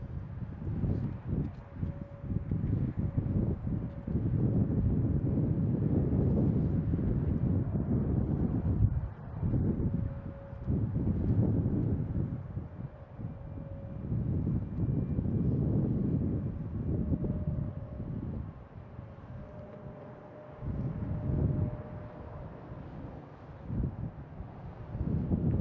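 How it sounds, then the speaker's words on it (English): A Delta airliner takes off from Boston Logan International Airport, its engines giving a sustained low roar heard from a distance, rising and dipping under gusty wind noise on the microphone. "next taking off, we have a Delta heading to Salt Lake City."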